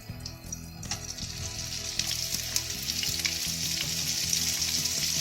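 Vegetables sautéed in a hot pan for a steamed salmon dish give a loud, continuous sizzle and crackle with light stirring noises, close and steady.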